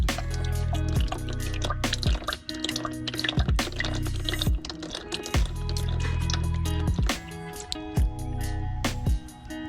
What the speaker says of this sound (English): center diff is just about done draining